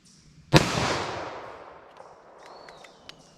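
A single loud, close gunshot from a short-barrel revolver firing .38 Special +P Fiocchi CovertX in single action, with a sharp crack that rings off and decays over about two seconds outdoors.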